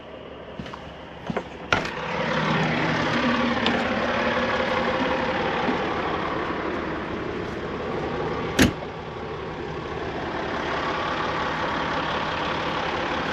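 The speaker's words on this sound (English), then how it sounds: "That's the sound of the crane ready to do the trusses." A crane engine idles steadily on a home build site before lifting roof trusses, a constant low rumble with a couple of sharp knocks over it.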